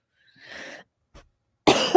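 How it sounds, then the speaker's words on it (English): A breathy cough, then a tiny thud, followed by a louder, harsher cough up close. "should really mute myself when I cough"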